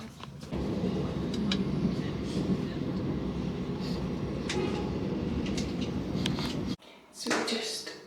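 Steady rumble and rattle of a train running on rails, with occasional clacks and squeals, then a brief sudden drop and rise in the noise.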